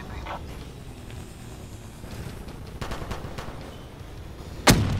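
Gunfire in Call of Duty: Black Ops 3 multiplayer, scattered shots and short bursts, fairly quiet and distant-sounding, with one sharp louder crack near the end.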